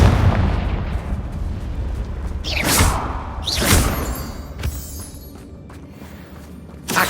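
The Confringo blasting spell in Hogwarts Legacy fires with sharp whooshing streaks followed by booming bursts, two or three loud hits over a steady game background.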